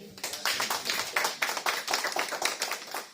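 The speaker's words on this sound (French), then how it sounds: "on applaudit" A church congregation claps to welcome a newcomer, with dense, steady applause that stays close and lively throughout.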